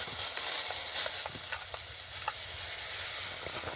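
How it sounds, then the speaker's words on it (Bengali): Grated carrot paste fries in ghee in a wok, making a close, continuous hissing sizzle with faint scrapes from stirring throughout. "এবার গাজরটা একটু ভালো করে ঘিয়ের সাথে নেড়ে চেড়ে ভেজে নেব"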